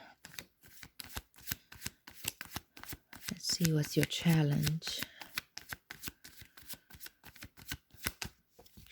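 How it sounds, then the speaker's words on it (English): Tarot cards being shuffled by hand in quick riffling bursts, close and crisp, with someone speaking over the shuffling partway through. "Actually, I shuffled these cards forever."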